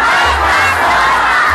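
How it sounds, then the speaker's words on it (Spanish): Large outdoor crowd at a concert event at the Jamaica market shouting a chant in unison, a loud sustained roar of many voices answering a call, dense and continuous throughout. "Yo digo mercado y todos dicen Jamaica zona."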